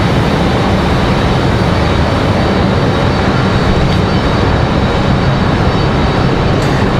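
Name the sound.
Delta airliner from Atlanta descending to land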